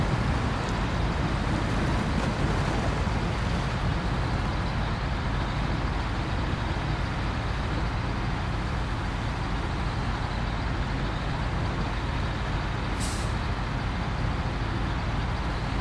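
A truck engine drones steadily and loudly in the video game SnowRunner, a continuous broadband rumble with no pauses, with a short hiss near the end.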